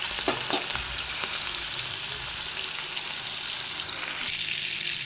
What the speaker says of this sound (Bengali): তেল গরম হয়ে গেছে, আমি এর মধ্যে চিংড়ি মাছগুলো ভেজে নেব।